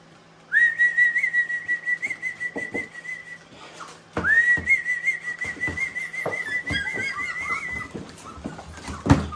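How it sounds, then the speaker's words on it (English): Two long, high, steady whistles, each lasting a few seconds, with horses whinnying and hooves shuffling nearby. "we do a little whistle and watch them very closely"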